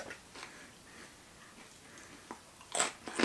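Crisp crunching bites of a crunchy wasabi or horseradish snack, a few faint chews and then two louder, close crunches near the end, no talking.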